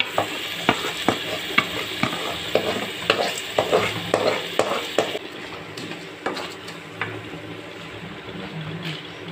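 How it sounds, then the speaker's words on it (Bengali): Polao rice frying with lightly fried onion in a pan, with a steady sizzle and quick, rhythmic scrapes of a spoon stirring the grains; the strokes become sparser toward the end. "পোলাও চালটা কিছুক্ষণ ভেজে নিচ্ছে।"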